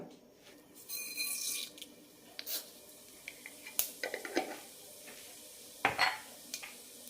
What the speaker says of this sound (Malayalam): കുക്കറിലേക്ക് രണ്ട് ടീസ്പൂൺ എണ്ണ ഒഴിച്ചിട്ടുണ്ട് ഇതിലേക്ക് കടുകിടാം